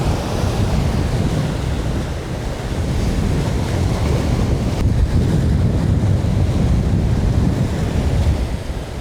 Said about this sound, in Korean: 바람이 아까 예보대로 정말 갈수록 심해지네요